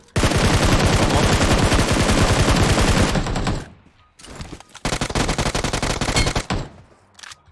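Automatic rifle fire in the mobile game PUBG Mobile: a long rapid burst of close, loud shots, a brief pause, then another fast burst with a few trailing single shots.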